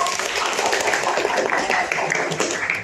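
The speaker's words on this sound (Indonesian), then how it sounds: "Tepuk tangan buat Laila." A classroom group applauds a student, producing a dense, steady burst of hand clapping that fills the room for about three seconds.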